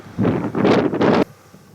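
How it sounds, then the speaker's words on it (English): A loud, rough rush of wind buffets the microphone for about a second in open, unsheltered ground at Yellowstone National Park, with a short lull in the middle, then cuts off to near quiet. "Windy right here"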